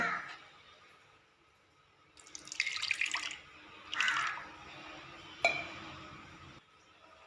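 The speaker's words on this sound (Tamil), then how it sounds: "மிக்சியில் கொஞ்சமாக தண்ணி ஊற்றிக்கோங்க" Water splashes and trickles in a few short bursts into a mixer grinder jar, with faint clinks, close by and moderately loud.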